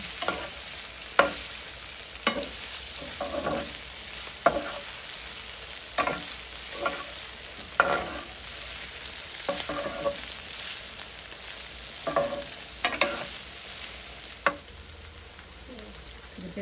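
Shrimps for a bitter melon dish sizzle steadily in a pan while a utensil turns them in regular scraping strokes every second or two, close and clear, with no speech.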